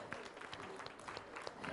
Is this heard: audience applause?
yes